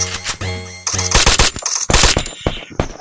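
Rapid gunfire from the Free Fire battle royale game, loud close bursts of automatic shots in quick clusters with sharp cracks, no talking.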